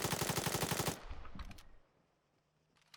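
A full-auto rifle fires a rapid, loud, evenly spaced burst in the video game Arma 3, then stops after about a second, leaving echoing tail and near silence.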